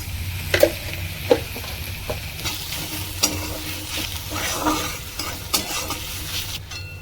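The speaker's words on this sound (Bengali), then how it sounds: "আমার শাকটা প্রায় ভাজা হয়ে গেছে" Red amaranth greens stir-fried with garlic in a pan, a steady sizzle broken by repeated spatula scrapes and taps at an irregular pace.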